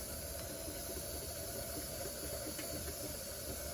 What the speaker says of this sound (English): this is steaming and we're gonna start the timer now for 10 minutes.